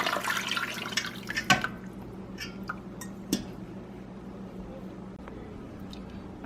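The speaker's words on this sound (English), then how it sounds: "I'm going to add water. It's warm water." Warm water is poured into a large pan over tomato paste for stuffed peppers. A short splashing pour is followed by faint drips and light clinks in a quiet kitchen.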